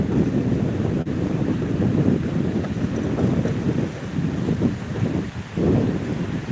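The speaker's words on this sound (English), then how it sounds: "You can hear the water." Water laps and churns near a monument outdoors while strong wind buffets the microphone, a loud, rumbling, continuous wash with no talking.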